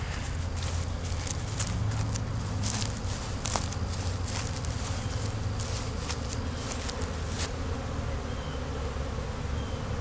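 Honey bees buzz steadily at close range in a bee yard with hives, a dense, continuous drone with a few louder passes near the listener.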